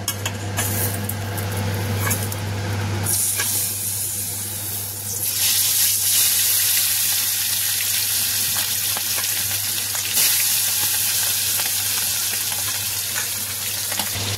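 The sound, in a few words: fish frying and spattering in hot oil in a wok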